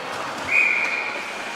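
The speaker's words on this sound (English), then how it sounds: "And then we'll get a whistle on the play." A referee's whistle blows once during a women's ice hockey game, a single clear shrill tone lasting about half a second over the low murmur of the rink.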